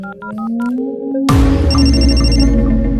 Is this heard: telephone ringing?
yes